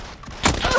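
A single loud burst of gunfire erupts abruptly in PUBG on Xbox One/PS4, cutting sharply through a quieter background.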